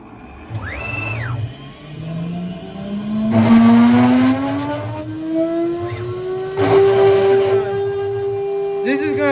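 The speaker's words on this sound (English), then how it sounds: "the next step is to run the bore cut, which is gonna make the holes" CNC machine runs a bore cut to drill holes, its spindle whine climbing steadily in pitch while bursts of broadband cutting hiss and a steady motor hum sound nearby, with a voice heard briefly.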